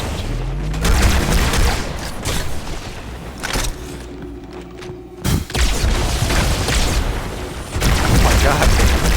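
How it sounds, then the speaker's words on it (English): Repeated grenade blasts and crackling gunfire in a Halo MCC firefight, loud and near, with dense booming bursts that briefly drop away midway before resuming. "Everyone's just hurling grenades."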